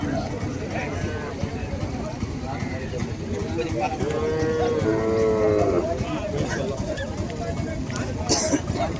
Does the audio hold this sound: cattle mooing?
yes